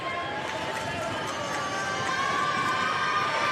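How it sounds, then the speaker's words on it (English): Basketball crowd in a gym cheering and shouting during a close game, a dense continuous roar of many voices holding steady throughout at moderate loudness. "Crowd getting into it."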